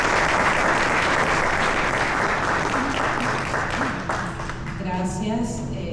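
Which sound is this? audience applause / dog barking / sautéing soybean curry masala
audience applause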